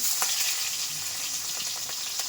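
Chopped onion frying in oil over a wood-fired clay stove outdoors in a village, making a steady close hiss and crackle with faint scattered pops.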